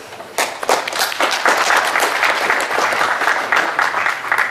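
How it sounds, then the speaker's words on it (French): An audience at a youth football tournament event applauds itself, clapping starting with a few sharp claps and swelling into loud, sustained, dense applause that holds for several seconds. "Donc je pense que rien que pour ça, on peut s'applaudir."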